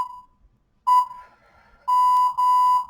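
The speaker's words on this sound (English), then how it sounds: "I'm going to turn off my timer" A workout interval timer sounds a series of sharp electronic alarm beeps: one short tone, a pause, then longer repeated beeps, loud and alone in a quiet room.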